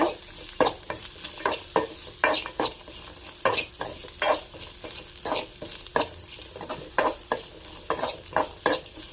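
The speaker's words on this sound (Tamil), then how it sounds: "தேங்காய் ஆட் பண்ணிவிட்டு ஒரு ரெண்டு நிமிஷம் நம்ம நல்லா வதக்கி எடுத்துக்கலாம்" Coconut sautéed in a pan over a low flame makes a soft background sizzle, broken by regular scraping stirs of a spoon against the pan. No one speaks.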